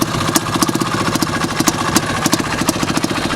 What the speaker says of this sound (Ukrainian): Ну, так собі на мінімальних оборотах холостих працює.